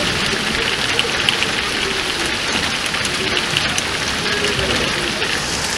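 Steady rain falls continuously in Shimla, a dense, even hiss of drops on surfaces throughout, fairly close and unbroken, with no voices.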